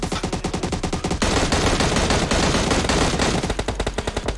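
Rapid automatic gunfire from PUBG Mobile played on an emulator, loud and close, with a steady rattling burst at the start and end and a dense continuous barrage through the middle.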